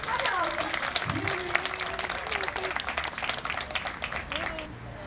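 Audience applause at a World Elderly Day concert gathering, a steady dense wash of clapping with a voice talking over it throughout.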